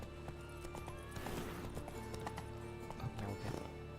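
Hooves of a horse in a video game, a steady clip-clop run with a brief whinny near the end, close and fairly loud over a faint game soundscape.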